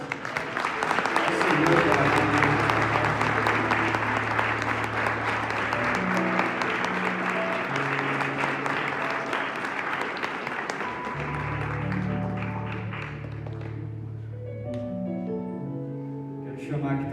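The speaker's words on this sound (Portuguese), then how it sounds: "Uma salva de palmas." A church congregation applauds during a unification service, steady sustained clapping over organ-like music chords, lasting the whole stretch and fading slightly near the end.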